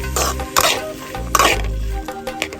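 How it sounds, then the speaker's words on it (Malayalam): Long beans being stirred in a hot pan for a Kerala-style stir-fry, with a few scraping spatula strokes and clinks over a steady low sizzle, close and fairly loud. "ഇനി നമ്മൾ ഇത് നന്നായിട്ട് ഇളക്കി യോജിപ്പിച്ചെടുക്കാം"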